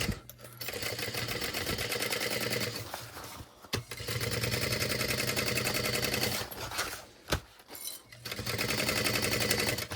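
A sewing machine runs in long continuous bursts while basting around a backpack side panel, its rapid stitching hum broken by a few short pauses and stops.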